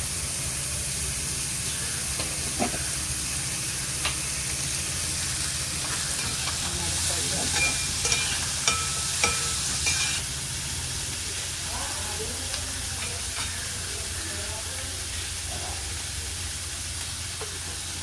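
Ginger and green chilies for urulan bonda fry in oil, giving a continuous loud sizzle with occasional small clicks and a faint voice in the background.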